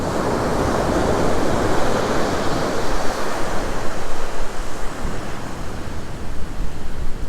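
Wind blows at sea during a snapper fishing trip after a storm, around 10 to 12 knots, as a loud, steady broadband rush with gusty swells and microphone buffeting. No one speaks.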